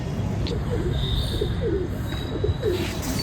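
Pigeons coo repeatedly in a winter loft, a busy flock of soft, rolling calls layered over each other at close range, with a steady background hum.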